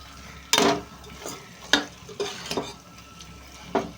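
A spoon stirs masala into a paneer and cashew curry in a pan, giving several sharp scraping strokes at irregular intervals over a soft background sizzle, close and fairly loud with no voices.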